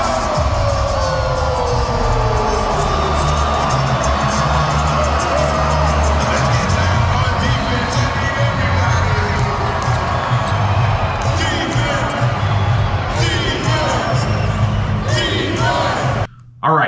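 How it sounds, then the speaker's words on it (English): A loud, sustained roar from an NBA basketball arena crowd cheering an exciting play, dense and continuous throughout before cutting off abruptly near the end. "Let's see how loud the crowd is when there's an exciting play at an NBA game."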